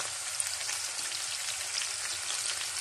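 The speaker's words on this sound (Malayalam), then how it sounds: "ഇനി അല്പം കൂടെ ഒന്ന് ഫ്രൈ ആവണം." Chicken sticks fry in hot oil on low flame, giving a steady, fairly soft crackling sizzle throughout with no voices.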